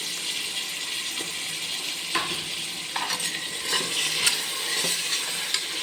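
Onion and tomato sautéing in a pan for a prawn biryani, giving a steady, fairly loud sizzle with occasional scraping stirs of a spatula close by.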